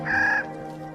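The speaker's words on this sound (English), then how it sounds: "The Clark's nutcracker is up there already, collecting the seeds of the whitebark pine" A Clark's nutcracker among whitebark pines gives a single harsh, grating call lasting under half a second, close and clear against a low outdoor background hum.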